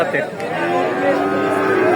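A tall Friesian heifer, about one and a half years old, at a rainy-day livestock market, giving a close, loud, drawn-out moo that carries through the whole stretch, with market noise behind it.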